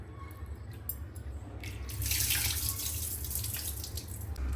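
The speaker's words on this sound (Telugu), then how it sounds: "రైస్ ఒకసారి శుభ్రంగా కడిగేద్దాం" Water runs and splashes as rice is rinsed by hand for ragi sangati, sloshing louder after a quieter start, close by with no voices.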